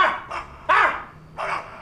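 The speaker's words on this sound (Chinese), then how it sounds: "大半夜搁这嗷嗷叫" A dog barks at night, giving four sharp, close barks in uneven succession, with short quiet gaps between them.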